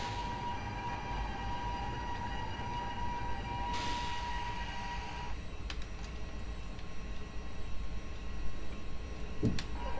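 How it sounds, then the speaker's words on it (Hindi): The Ahmedabad–Mumbai Double Decker Express braking in the MSTS train simulator game: a continuous rail rumble with a tonal hum that shifts as the brakes engage, with brief clanks near the end. "तो चलिए थोड़ी हम ब्रेक लगा देते हैं।"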